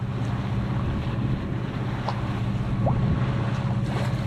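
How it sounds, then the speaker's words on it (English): A home-built sailboat motor-sails on a flat, sparkling sea in a light breeze. A steady low engine drone mixes with soft wind hiss and faint water sounds, with no talking. "There's enough wind to motor sail, so it's given us a push."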